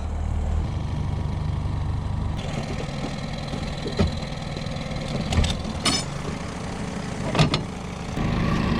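A boat engine idles at a marina with a steady low rumble and a faint knocking throb. A few brief clanks and knocks sound nearby over it, and there is no talking.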